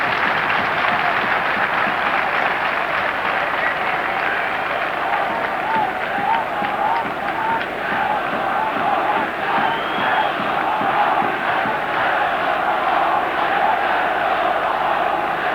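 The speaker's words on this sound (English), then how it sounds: "the ripples of applause which were filtering around the ground" A stadium crowd at a 1997-98 Champions League football match between Košice and Manchester United sends up a steady, dense roar of applause and cheering that holds throughout, with a commentator's voice faintly underneath.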